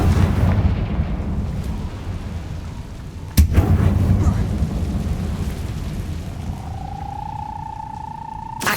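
A Confringo spell blast in Hogwarts Legacy bursts out as a single sharp crack midway through a steady low magical rumble, followed by a rising tonal shimmer near the end.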